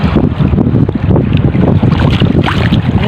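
Strong wind buffets the microphone in loud, rumbling gusts, with a steady low roar suggesting open water nearby and no voices.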